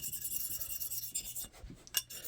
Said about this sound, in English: I feel a burr on the back. So we'll take that burr off.